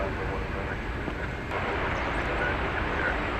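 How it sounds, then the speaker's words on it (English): An Airbus A319 airliner at DFW Airport gives off a continuous engine roar, moderately loud and steady, while someone talks over it. "Airbus A319. It's going to Houston Intercontinental George Bush World Airport."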